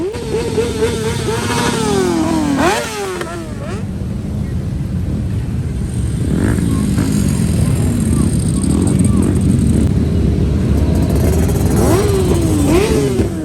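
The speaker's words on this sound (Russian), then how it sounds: "Мотоциклы везде, рев двигателей и ощущение скорости даже в воздухе." Motorcycle engines rev and whine around Jerez during the Spanish motorcycle Grand Prix, rising and falling in pitch in several passes, loud and mixed with a busy crowd and voices.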